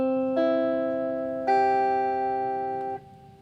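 Three sustained piano-like tones of a major triad in root position entering one after another (root, third, fifth), stacking into a held chord before fading, played alone and fairly quiet.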